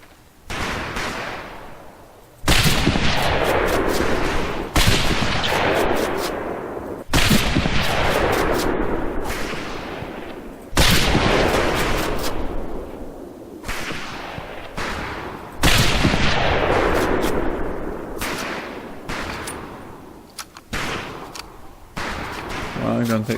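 Rifle fire in the Medal of Honor Pacific Assault boot camp: loud single shots, each with a booming, decaying tail. They come every two to three seconds, roughly eight in all.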